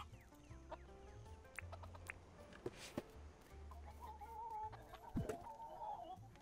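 Chickens cluck in the farming video game Dinkum, with scattered short clucks and low throaty murmurs spread across the stretch at moderate volume, along with a few game clicks and chimes.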